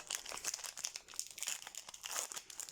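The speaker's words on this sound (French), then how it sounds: "On va essayer d'ouvrir ça proprement" Pokémon card booster pack wrapper being opened, a close, quiet crinkling and crackling of foil plastic in short irregular bursts.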